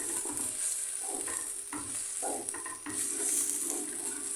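Full cream milk heating to a boil in a pot while being stirred, a steady bubbling sizzle with scraping stirs and light pot clinks, close and continuous.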